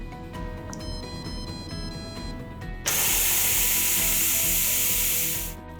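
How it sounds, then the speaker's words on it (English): A multi cooker's manual pressure release lets out a loud, steady hiss of venting steam that bursts in suddenly and holds for several seconds before tapering off, with no talk over it. "Now we'll hit cancel and manually release the pressure."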